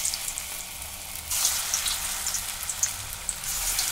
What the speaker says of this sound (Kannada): ಕಡಾಯಿ ಒಳಗೆ ಎಣ್ಣೆ ಹಾಕಿದ್ದೀನಿ. ಎಣ್ಣೆ ಕಾದೈತಿ. ಮತ್ತು ಒಂದು ಸ್ವಲ್ಪ ಸಣ್ಣ ಸಣ್ಣ ಪಕೋಡ ಬಿಡ್ತೇನೆ.